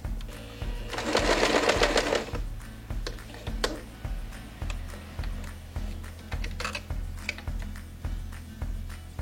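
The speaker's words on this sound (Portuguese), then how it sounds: "No final da costura do zigue-zague, também podemos dar o retrocesso." Sewing machine stitching a zigzag seam in patchwork: a fast, loud whirring burst of needle strokes, then slower irregular mechanical clicks and short stitching runs, close up and without talk.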